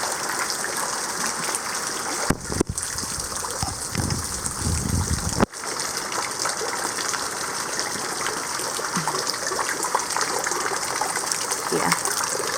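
Heavy typhoon rain pours down outdoors in a dense, steady hiss, with water gushing throughout and a couple of brief sharp knocks near the start.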